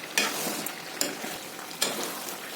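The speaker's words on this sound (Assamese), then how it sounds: "এনেকৈ মই আদা নহৰু দিয়াৰ পিছত অলপমান টাইম লৰাই দিওঁ" Ginger-garlic paste and masala fry in a pan for pork while being stirred, a soft sizzle broken by three sharp spatula scrapes at regular intervals.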